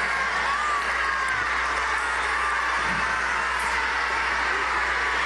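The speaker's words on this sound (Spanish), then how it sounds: "Un aplauso a Nueva Esparta" A large indoor crowd at a Unamujer women's assembly in the Poliedro de Caracas roars with steady applause and cheering for the Nueva Esparta delegation, a dense, continuous wash of sound that holds evenly for several seconds.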